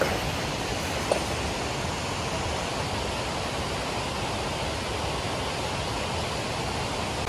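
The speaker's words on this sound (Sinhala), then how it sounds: "ඉතින් මේක දියැලක්" Lanka Ella waterfall near Belihuloya, Sri Lanka, gives a steady, dense rushing roar that holds at an even level throughout, close and continuous with no voices.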